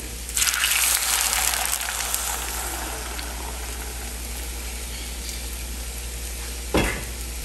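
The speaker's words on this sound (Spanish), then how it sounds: "en una cazuela agregué un poquito de aceite y le voy a agregar mi salsa" Blended chili and tomato salsa poured into hot oil in a pot hisses in a steady, loud broad sizzle that fades slightly over time, with a brief clatter near the end and no talking.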